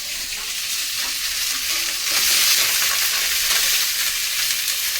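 Fish sizzle steadily in a hot pan, a loud continuous hiss and crackle that swells slightly midway, with no talking over it.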